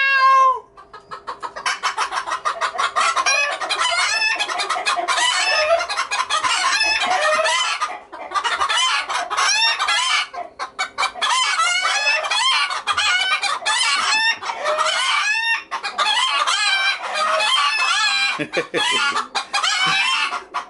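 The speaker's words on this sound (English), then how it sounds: "They sound like hens." Roosters cluck and squawk like hens, loudly and continuously close by, a busy chorus of overlapping calls with occasional higher-pitched cries.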